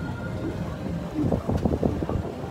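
Steady wind noise buffeting the microphone during a swan paddle boat ride, with a low rumbling roar and some louder gusts toward the end.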